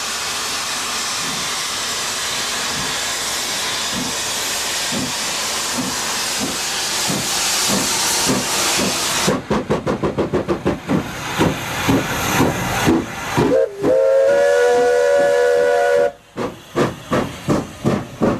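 Steam locomotive Brookfield pulls away from a furnace siding on a preserved standard gauge line, starting with a loud, steady hiss of steam, then building rhythmic chuffing as it gets going and sounding a sustained whistle near the end.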